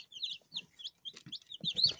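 Newly hatched black chicks in an incubator peep in high, rapid, overlapping chirps, close and fairly clear, with a few soft low rustles beneath.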